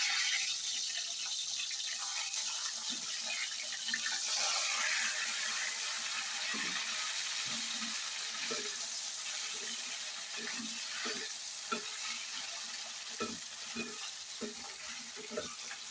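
Thin brinjals (eggplants) fry in hot oil, giving a continuous sizzle broken by repeated scraping and stirring knocks in the pan, with no talking.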